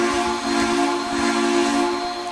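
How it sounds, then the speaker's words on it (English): A steam locomotive whistle in the Trainz simulator, a Southern 630 engine, blows as one steady, loud, sustained tone with a hissy edge, held for over two seconds without a break. "Really, very nice whistle."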